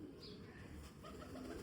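A golden breed pigeon gives soft, low cooing close by, a brief murmuring call heard faintly with no talk.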